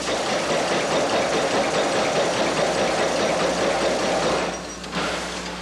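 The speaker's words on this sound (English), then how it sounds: "Stitching and finish work are done by machine." A broom factory machine stitching and finishing brooms runs with a steady, loud mechanical chugging and rattle, dipping briefly near the end, with no voices.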